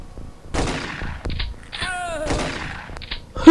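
Gunfire from the turn-based video game XCOM crackles in several sharp, loud bursts close together, with a brief tonal effect between the shots.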